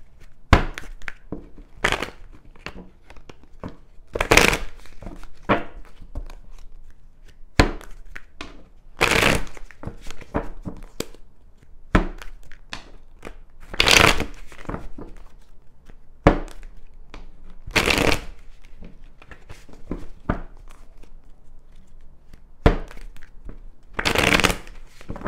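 Tarot cards shuffled by hand, giving repeated sharp riffling bursts and soft thumps at irregular intervals, close and loud with little else around.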